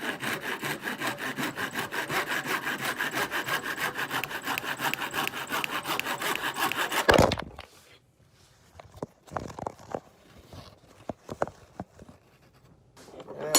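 A small hand saw cuts a tiny, thin piece of wood on a handmade wand, with quick rhythmic back-and-forth rasping strokes for about seven seconds. A sharp end follows, then quiet bumps and handling noises.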